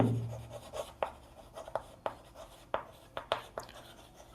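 A teacher writes out a maths answer during a class 5 lesson, the pen or chalk making a string of short, sharp scratches and taps at an uneven rhythm, close and fairly quiet, with no one talking.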